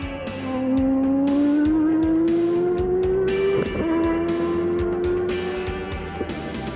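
A Honda-engined Indy race car screams at over 13,000 RPM, its loud high-pitched engine note rising steadily in pitch as it pulls through the gears, with a brief dip before climbing again.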